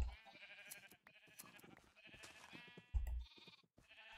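Sheep bleat in Minecraft, with several short wavering calls spread across the moment, loud and close, over a busy game soundscape.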